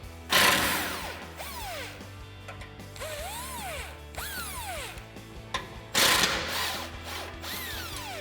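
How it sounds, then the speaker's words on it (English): A 15mm socket wrench ratchets out two bolts on a 2021-2023 Ford F-150 front bumper, with close, crisp pawl clicking in repeated runs and brief pauses between strokes. "Now we can grab a 15mm socket to remove our 2 bolts."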